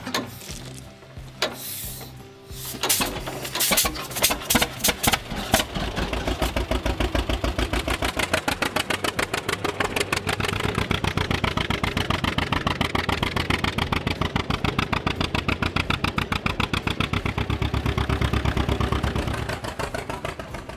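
An antique tractor engine about 140 years old, started by pulling its flywheel over by hand, gives a few uneven pops and then settles into a steady, loud, fast chugging idle that stays close for the rest of the clip.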